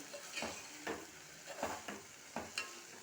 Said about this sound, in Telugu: పల్లీలు వేసుకొని ఇలా కలుపుకోవాలన్నమాట.